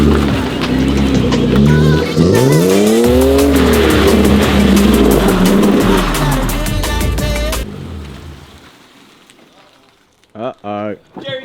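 A Ford Sierra 1GFE drift car does a burnout into a donut, engine screaming at high revs with rising and falling pitch and tyre noise, loud and close, before cutting off abruptly, followed by quiet and brief voices.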